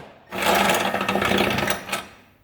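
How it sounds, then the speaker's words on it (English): A power tool whirs steadily for about two seconds, unscrewing a bolt during camper restoration work, with a brief dip and a short final burst before it stops. "now I'm gonna unscrew it so this bolt will actually go out"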